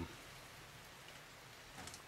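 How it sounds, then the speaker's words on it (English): Rain falls outside a garden shed, heard from inside as a faint, steady hiss of drops on surfaces with no other sounds. "I'm gonna stand here in my shed for a couple more minutes and hope it stops raining"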